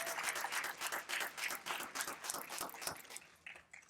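Audience applause for a community band at a tribute concert, steady clapping from a crowd filling the room, swelling and fading in waves without speech over it.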